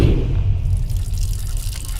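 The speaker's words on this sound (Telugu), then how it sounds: "నువ్వెంత కట్టినా ట్యాప్ ఆగదమ్మా, అది రిపేర్లో ఉంది" A leaking tap keeps running because it will not turn off, making a steady, fairly loud stream of water close by, with no speech over it.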